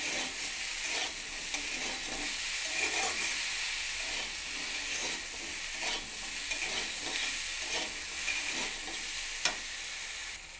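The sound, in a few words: potato and eggplant frying with salt and turmeric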